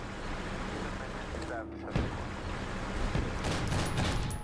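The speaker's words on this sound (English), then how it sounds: "There's some kind of autocannon." An infantry fighting vehicle's autocannon fires in the Cold Front combat game, with rapid booming reports and a heavy crack near the middle, while someone talks over the battle noise.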